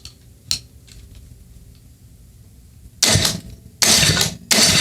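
Water-damaged John Deere Frontier snowblower engine cranked over, a faint click early on, then three loud bursts of churning mechanical cranking near the end.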